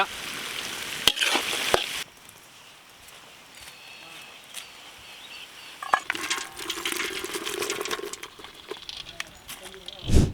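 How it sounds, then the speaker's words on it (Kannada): Biryani masala roasting in a pan for Bengaluru donne biryani: soft sizzling and scraping stirs with a louder clattering burst at the start and again near the end, as a person talks over it. "ಮಸಾಲೆ ಚೆನ್ನಾಗಿ ರೋಸ್ಟ್ ಆಗೈತೆ"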